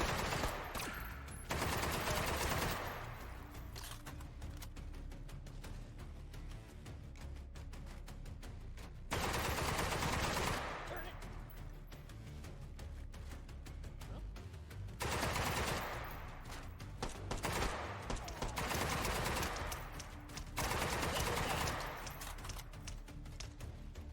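Weapons firing in a shooter video game, sustained rapid bursts of gunfire coming in several long waves separated by brief quieter gaps, loud and close throughout.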